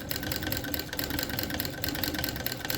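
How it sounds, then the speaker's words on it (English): A White treadle sewing machine stitching steadily, with a continuous dense mechanical whirr and rapid rhythmic clatter that stays loud and even throughout, and no voices. "I'm just going to make a couple of stitches for myself just to get me started"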